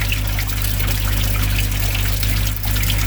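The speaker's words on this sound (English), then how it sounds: "I'll flick it on, see, I've got the pump wide open." A 10,000 litre water pump runs wide open with a steady low mechanical hum beneath continuous rushing, splashing water, loud and close throughout with no speech.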